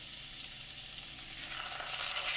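Salmon sizzling and frying in a pan for blackened salmon, a steady crackling hiss close by with no talk.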